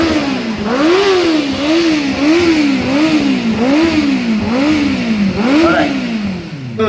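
A 600 cc superbike engine revs hard in a steady series of rising and falling blips, about a dozen throttle pulls over several seconds, loud and close with no talking.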